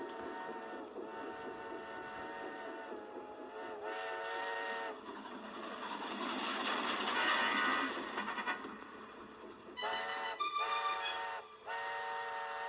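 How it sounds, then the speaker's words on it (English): Steam mail train whistles sounding in long tones, with a rumbling, chuffing train passing and growing louder midway before more whistle blasts near the end. "It's a mail train, isn't it?"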